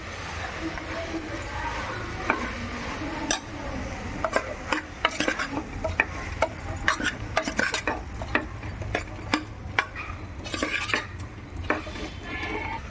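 A spoon scrapes and clinks repeatedly against a pan as turmeric and coriander are stirred into a frying mixture for curd bath rice, with irregular metallic knocks over a soft sizzle and a voice talking.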